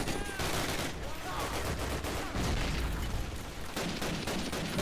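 Rapid MG machine gun fire in a World War II battle in Call of Duty: United Offensive, loud and dense throughout with sustained bursts and thumping impacts, a voice faintly talking over the din.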